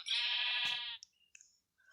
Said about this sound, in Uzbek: Va mana yo'limdan qo'y chiqdi.